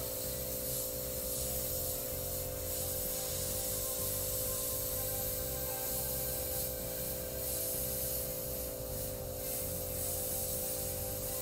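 Airbrush spraying white paint in short bursts to dot in stars on a wolf and moon design, a steady close hiss that runs without a break under a constant compressor-like drone.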